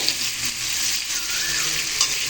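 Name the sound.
chopped onion frying in oil with tomato, papaya and potato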